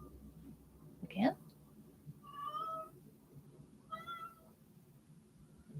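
A cat howls, then gives two drawn-out meows with short pauses between them. The cries are close and moderately loud over a quiet room, and a faint whisper-like voice is heard early on.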